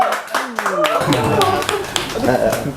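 Audience clapping for a comedian at a stand-up comedy show, a scattered burst of claps with voices and chatter mixed in throughout.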